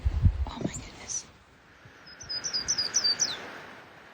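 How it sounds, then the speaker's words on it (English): A yellow-rumped warbler sings outdoors on a mountain morning in the White Mountains of New Hampshire, a quick bright trill of repeated chirps after a few scattered call notes, fairly faint against quiet background, with a brief low sound near the start. "There's a yellow rumped warbler this morning."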